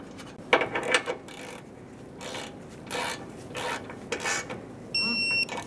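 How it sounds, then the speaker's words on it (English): Radiator bolts being fitted to the upper support of a 2014-2018 Chevrolet Silverado, with faint metallic clicks, creaks and ratchet-like scrapes in short separate bursts, close and quiet, ending in a brief electronic beep. "Install the bolts for the radiator to our upper support."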